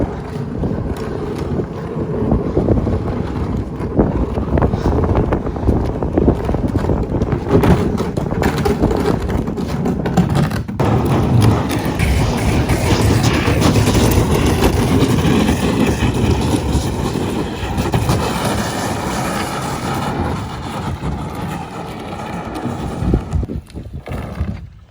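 A plastic kayak fitted with a keel guard is dragged across cement, giving a long, loud, continuous gritty scrape with slight surges and no pauses throughout.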